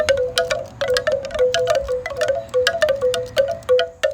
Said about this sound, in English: That is the sound of a beautiful bamboo wind chime from Nalulu.